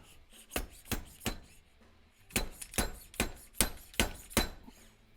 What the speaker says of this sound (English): Reconnect the halves and drive that until it's fully seated.